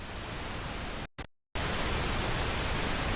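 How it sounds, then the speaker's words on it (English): Steady pink noise hisses loudly and evenly, broken by a brief stutter and about half a second of total silence before the dense, full-range hiss resumes. "If you take some pink noise and duplicate it"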